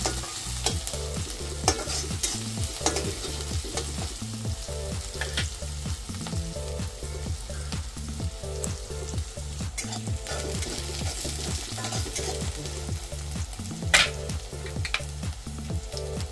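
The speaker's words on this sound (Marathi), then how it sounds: "हे छान परतून घ्यायचं, कांदा ब्राऊन होईपर्यंत छान परतून घ्यायचं।" Onion sautéing in a pan until brown for shepu (dill) bhaji, with a steady sizzle and repeated stirring scrapes of a spoon running continuously and close throughout, with no talk.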